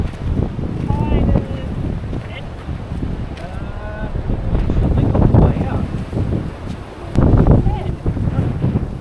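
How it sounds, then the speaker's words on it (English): Strong gusting wind blowing outdoors on a windy day in New Plymouth, New Zealand, roaring steadily into the microphone with louder surges, while people talk over it throughout. "I'm gonna go for a quick walk in the wind."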